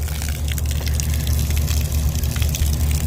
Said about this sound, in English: there we've got the water flowing